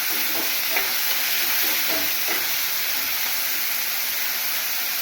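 Spices for vegetable saagu sizzle in hot oil during tempering, a steady close hiss with a few soft clinks and stirring scrapes early on, no talking.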